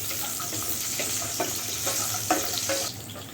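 Peeled almonds frying in hot oil in a pan, giving a steady close sizzle with a few soft clinks and stirring scrapes over it.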